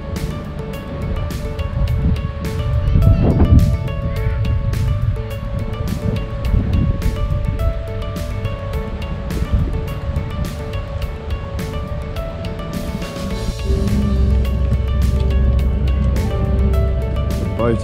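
Steady engine hum and wind rushing past, with water churning and splashing against a car ferry crossing open water from Queenscliff to Sorrento, Melbourne; no voices.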